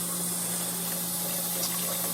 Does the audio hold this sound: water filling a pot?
yes